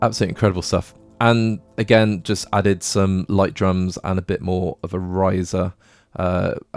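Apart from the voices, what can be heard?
None of the usual background noises is heard.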